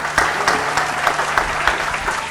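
Enthusiastic applause from an audience at a political comedy and poetry event as a guest is welcomed, dense rapid clapping close by, continuous and alone.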